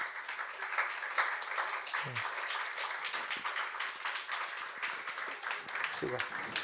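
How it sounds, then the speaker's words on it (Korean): A church congregation applauds to welcome a pastor and his wife, a dense, steady clatter of clapping filling the room at moderate volume for several seconds. "우리 박수로 한번 환영하도록 하겠습니다."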